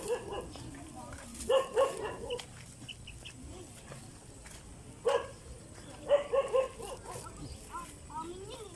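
Several short dog barks in bursts around the middle and end, fairly distant, with outdoor ambience and occasional rooster or bird calls.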